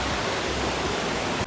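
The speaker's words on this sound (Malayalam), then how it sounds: "ഇവിടുന്ന് സൗണ്ട് കേൾക്കാം. ഇതൊരു കുഞ്ഞി ഫോറസ്റ്റും പുഴയുണ്ട് കേട്ടോ" A river flows past a small forest at Vattavada, a steady broadband rush of moving water that holds even and fairly loud before cutting off abruptly at the end.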